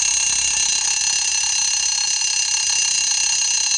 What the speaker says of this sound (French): utilisez un radio-réveil traditionnel